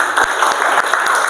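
Students in a classroom clap their hands in a brief, loud, dense burst of applause that carries on evenly for just over a second.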